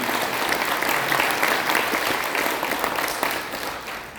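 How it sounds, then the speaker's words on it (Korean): A large crowd applauds at a rally for free unification held as an assembly of national elders: dense, loud, continuous clapping that eases slightly toward the end. "그분에 대해서도 박수 한번 해주시기 바랍니다."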